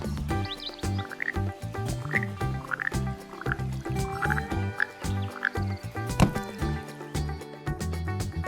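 A red poison frog croaks repeatedly in a steady rhythm amid a dense rainforest soundscape with dripping water and other layered calls. The calls are loud and continuous.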